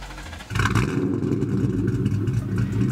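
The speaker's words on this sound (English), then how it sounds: "The exhaust." A Mustang GT or Infiniti G35 sports car exhaust rumbles at idle and then rises into a loud, deep rev. It stays near and throaty for the rest of the moment, with no talk.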